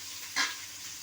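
Onions sautéing in a hot pan, a soft steady sizzle with one brief louder burst of stirring near the start, close and quiet with no voices.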